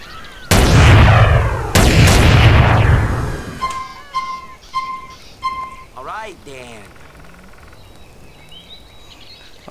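Weapon fire from a custom chrome-green gun in GTA San Andreas: two loud, close booming shots near the start with long decaying tails, then a string of lighter mechanical clicks and small shots fading out. No one speaks.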